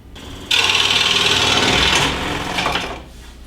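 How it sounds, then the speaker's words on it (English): A scroll saw with a T thumb-screw blade clamp starts with an abrupt, loud rasping buzz. The sound wavers and weakens as the blade slips out of its clamp, then fades away. "Blade slipped out of the clamp."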